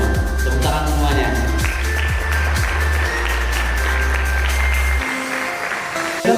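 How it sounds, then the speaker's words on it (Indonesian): Students applauding at a campus outreach event at an Islamic school in Jakarta, a sustained burst of clapping with a heavy booming music bed underneath that cuts out near the end. "Tepuk tangan semuanya."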